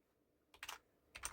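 Two short bursts of keystrokes on a computer keyboard, entering a terminal command on a Raspberry Pi 5, close and crisp against a quiet room, the second burst ending in a firmer press.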